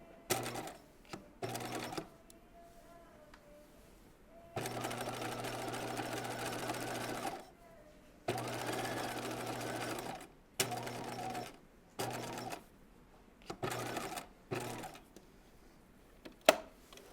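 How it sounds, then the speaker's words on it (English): A sewing machine fitted with a zipper foot stitches a raglan top in short bursts, several quick runs and a few longer ones separated by quiet pauses, close and clear with no talking. "now I'm going to connect my stitching here using a zipper foot"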